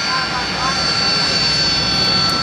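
A Sea Harrier jet with a Rolls-Royce Pegasus engine at an airshow gives off a loud, steady roar with a high, sustained whine running through it.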